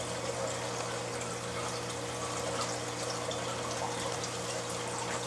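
A WP40 pump running at full power drives water through a reef aquarium. A constant low mechanical hum sits under a continuous rushing, trickling wash of water, steady and moderately quiet, with no voices.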